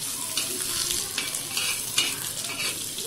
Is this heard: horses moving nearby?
no